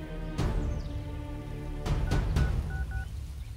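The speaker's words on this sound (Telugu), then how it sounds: "సాగర్ వెంటనే అక్కడే ఉన్న ప్లాంట్ వెనక్కి వెళ్లి ఎవరికో ఫోన్ చేశాడు." Telephone keypad tones beep as a number is dialed: several short tones in quick succession over a low hum, then a pair of fainter beeps, as a sound effect in a narrated story.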